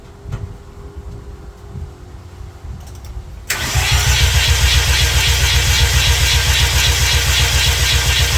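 Mazda RX-8 rotary engine cranks and fires up during a misfire check on the rear rotor, a few seconds of quieter starter activity before it catches abruptly and settles into a loud, steady close-up idle.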